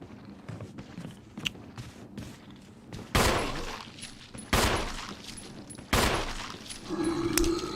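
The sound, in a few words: gunfire in video game Resident Evil HD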